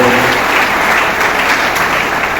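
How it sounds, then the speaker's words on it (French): Dense, loud audience applause fills a school year launch ceremony that also inaugurates a vocational training centre, a steady unbroken wash of clapping lasting the whole stretch with no voices over it. "Je vous demande de vous applaudir"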